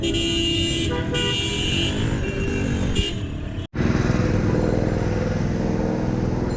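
Dense, steady traffic noise with car horns tooting repeatedly, close and loud, one sustained honk ending just before a brief dropout.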